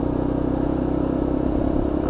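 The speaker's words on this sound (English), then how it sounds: "Keeping the revs nice and low before I work through the box." Lexmoto LXR motorcycle with a five-speed gearbox idling and revving gently at low revs, a loud, steady, throbbing engine drone close by with no speech.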